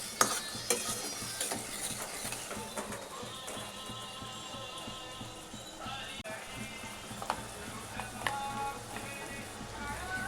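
Pav bhaji mixture sautéed in a pan over a high flame, with a soft continuous sizzle and irregular scraping and stirring clicks from a spoon against the pan, fairly faint and close.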